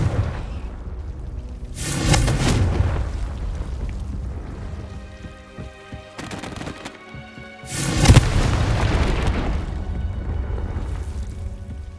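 Two loud booming fire-spell blasts from Hogwarts Legacy on PS5, the first near two seconds and the second near eight, each decaying into a long rumbling tail over steady game ambience.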